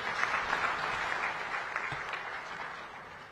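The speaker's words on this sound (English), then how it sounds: "Another round of applause, ladies and gentlemen." Applause from a seated audience at a summit of heads of state and government, a continuous patter of many hands at moderate distance that fades slightly toward the end.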